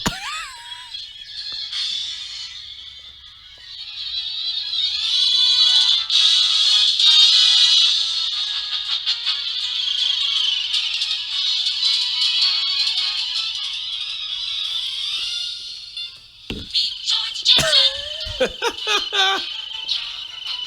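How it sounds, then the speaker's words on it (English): The Jetsons cartoon theme plays as a tinny melody from a phone speaker, bright and continuous for most of the stretch, then breaks into choppy bursts near the end. "Here's the Jetsons theme, right?"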